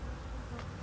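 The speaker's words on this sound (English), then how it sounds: "So this shows you just a ton of bees on just one frame." A low, steady hum of many honeybees buzzing together at close range on a single hive frame, quiet and continuous.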